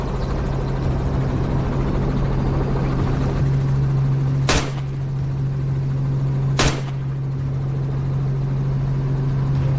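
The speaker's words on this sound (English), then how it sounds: "zigzagging to shake the helicopter" A helicopter flies over a sweep for wild hogs, a loud steady engine drone with a constant rotor hum and two sharp bangs like gunshots partway through, with no talking.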